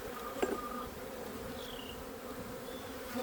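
Honeybees buzz around an open hive during a spring inspection, a soft steady hum with a few individual bees droning past up close.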